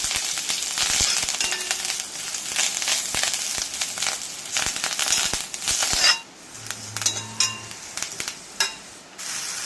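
Shallots, dried red chilies and curry leaves sauté in a pan for a Kerala jackfruit-seed thoran, giving a steady close hiss and crackle with scattered stirring clicks that thin out toward the end.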